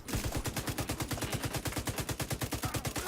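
Rapid, evenly spaced pistol shots from The Division 2 ring out in a steady run of sharp reports, loud and close with no talk over them.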